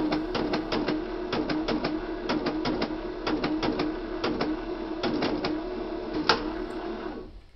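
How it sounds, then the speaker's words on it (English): Casio P2-D financial calculator's printer mechanism running, slowed to a third of real time, with rapid, evenly spaced mechanical ticks of the printhead firing over a steady low motor hum. "we can now see more details of how the printer mechanism works."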